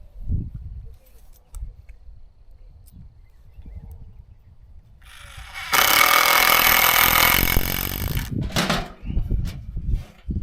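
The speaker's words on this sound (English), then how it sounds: "We'll go ahead and put some screws in." Power drill or driver sinking screws into a homestead garden project, a loud whirring burst of about three seconds after quiet handling noises, followed by shorter clattering sounds.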